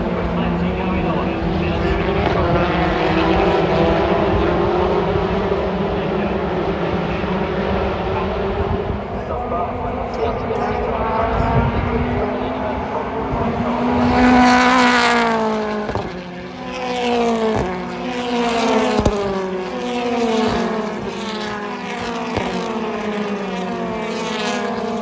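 British Touring Car Championship race cars at Brands Hatch roar past in a dense pack, engines rising and falling with sharp gear changes and pass-by sweeps, loud and continuous beneath a commentator's voice over the circuit.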